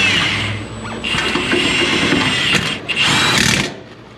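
Power tool running on the steering box bolts of a 2013 Dodge Ram 6.7 Cummins, loud bursts of drilling whine with brief pauses, close by and without talk.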